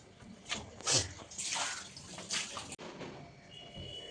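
Fish is rinsed under running tap water in a kitchen, giving a steady close splash and gush with bursts of louder spatter, a brief knock partway through and no talking.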